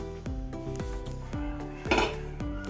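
A metal cake tin filled with batter is tapped repeatedly on a hard surface to release air, about ten ringing knocks in quick, uneven succession, close up.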